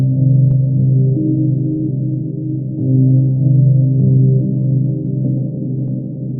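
A guitar layer for a drill beat, processed with chorus, reverb, tremolator and halftime slowdown, gives a muffled, dark, continuous wash of low tones that gently swells and pulses, heard alone without speech.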